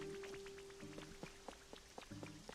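Rain falling in the video game Pokopia, a steady soft patter with scattered droplet ticks under game music tones, no voices.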